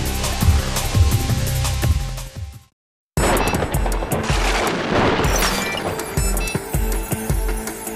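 Repeated shotgun blasts in a radio advertisement aimed at duck hunters, sharp booming shots in quick irregular bursts, loud and close, with a brief silent gap between two volleys.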